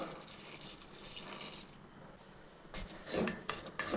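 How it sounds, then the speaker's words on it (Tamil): Water pours steadily into a metal pot over jaggery, a broad splashing rush that grows louder and more gurgling toward the end. "இப்போ அந்த வெள்ளம் மூழ்கிற அளவுக்கு தண்ணி சேர்த்துக்கலாம்"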